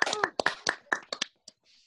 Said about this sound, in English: Please unmute and please clap.